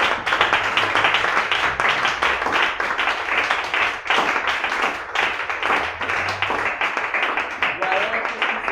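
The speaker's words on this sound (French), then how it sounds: "Est-ce qu'on peut acclamer pour la gloire de notre Dieu?" A church congregation at a Thursday worship service claps and cheers together in praise, a dense, steady wash of many hands lasting throughout, with voices mixed into the crowd noise.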